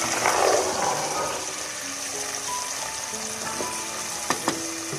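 Boiled white chickpeas drop into frying masala in a pan, setting off a loud sizzle that fades to a steady hiss, with a couple of clinks near the end.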